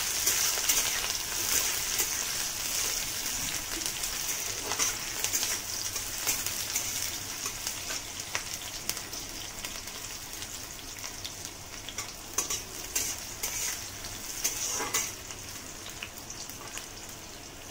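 Capsicum sizzling and crackling in a hot pan, stirred steadily while frying for a vegetarian stuffed idli filling, with a continuous bright hiss and scattered pops throughout.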